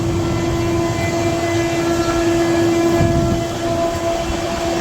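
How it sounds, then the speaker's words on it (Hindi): A double-decker train crossing Rampur junction at high speed gives a steady, loud rumble and rail roar with a sustained tonal hum, continuous throughout and without voices. "जनपद रामपुर जंक्शन को हाई स्पीड में क्रॉस करते हुए हमारी ट्रेन"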